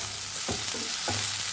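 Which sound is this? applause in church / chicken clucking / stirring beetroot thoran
stirring beetroot thoran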